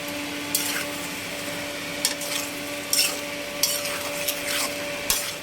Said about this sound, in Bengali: এখন নাড়াচাড়া দিয়ে নিব।